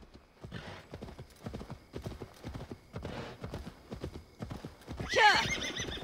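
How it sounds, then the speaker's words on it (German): Hoofbeats of a horse ridden in the video game Assassin's Creed Valhalla clop in a steady galloping rhythm, close and moderately loud, ending with a sharp neigh near the end. "Hier zum Südzipfel müssen wir irgendwie noch mal reiten."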